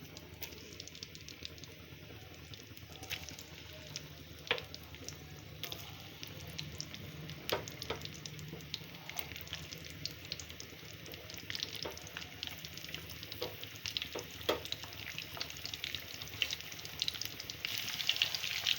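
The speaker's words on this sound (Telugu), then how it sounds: "కొంచెం గోల్డెన్ కలర్స్లో వచ్చే వరకు ఫ్రై చేసుకున్నాను" Chopped onions fry in a pan for prawn gongura curry, a soft, steady sizzle with scattered crackles and pops, faint and close, with no talking.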